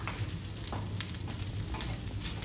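Egg fried rice stirred in a hot pan: a steady, close sizzle and crackle of frying, with soft scraping and tossing strokes mixed in.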